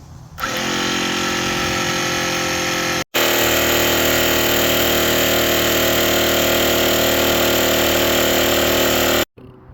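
An electric water pump pressurizing the water tank on an overland truck runs with a steady, loud mechanical whine, briefly cutting out around three seconds before starting again and stopping near the end.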